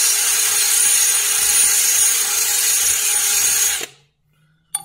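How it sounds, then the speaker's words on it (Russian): A cordless drill spins a homemade cleaning attachment, a steady loud whirring drone that runs for nearly four seconds before cutting off abruptly, followed by a short click near the end. "я для этого на шуруповерт делал вот такую вот насадку"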